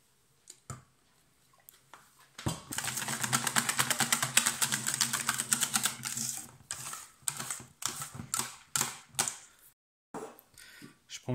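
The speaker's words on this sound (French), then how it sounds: "On l'entend quand ça gratte au fouet" A whisk scrapes rapidly against a bowl while cream cheese is mixed for a no-bake sweet cheesecake, a dense burst of quick rhythmic scratching that stops and restarts in shorter close strokes.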